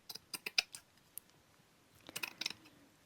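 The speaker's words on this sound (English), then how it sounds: "And I was going to cut this as well, if I can cut it carefully." Scissors cutting paper for a vintage junk journal, with a few quiet, close snips in two short bursts and a short pause between them.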